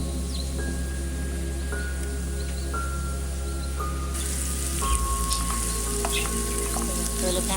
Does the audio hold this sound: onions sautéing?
yes